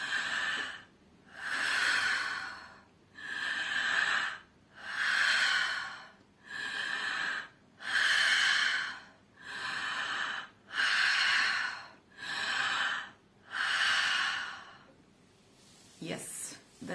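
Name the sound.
deep breathing, inhaling and exhaling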